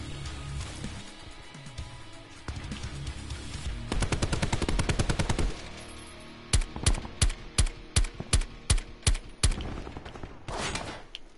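Gunfire in a Call of Duty Blackout style shooter, rapid automatic bursts followed by a run of evenly spaced single loud shots, then another short burst.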